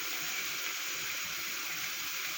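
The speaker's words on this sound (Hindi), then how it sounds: "पानी उबल रहा है, ये देखें, आपको साइड से थोड़े से बबल्स नज़र आ रहे होंगे।" Water boils in a pot on the stove before eggs go in, a steady, even hiss of small bubbles rolling along without a break, fairly close and moderately quiet.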